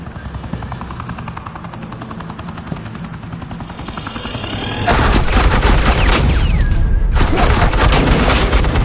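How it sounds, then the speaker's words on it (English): Gunfire in a Batman video game lays down suppressing fire, sharp rapid bursts crackling loud and close over the steady beating of a helicopter rotor, which runs throughout and grows louder partway through. "suppressing fire."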